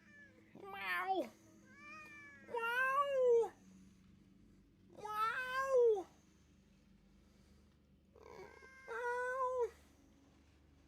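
A cat meows in the video game Ghost of Yotei, giving four drawn-out, wavering calls spaced a few seconds apart, close and clear, with brief speech mixed in.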